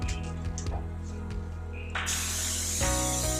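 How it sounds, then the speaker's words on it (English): A can of 505 temporary adhesive spray hisses out in a sustained burst, starting partway through and continuing loudly to the end over faint background hum, with no talking. "use your 505 spray"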